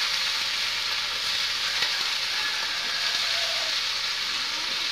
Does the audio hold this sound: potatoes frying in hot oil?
yes